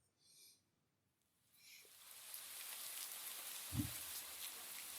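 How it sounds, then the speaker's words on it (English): Rain starts falling in a video game, a soft hiss that swells from quiet into steady, faint patter, with a brief soft thump partway through. "But in the middle of your walk, it starts to rain."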